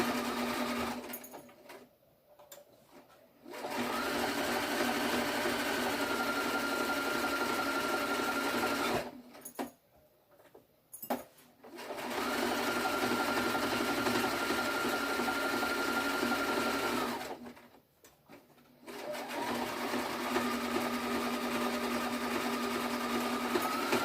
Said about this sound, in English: Sew around till my stitches meet.